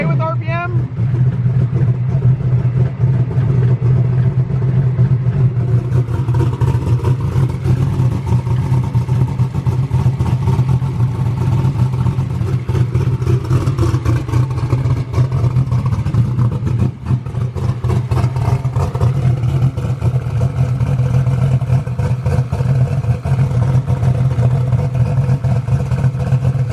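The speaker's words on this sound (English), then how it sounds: "It's like the lifter's noisy." A car engine being revved, with a noisy valve lifter ticking away inside a loud, steady engine drone, while people talk over it.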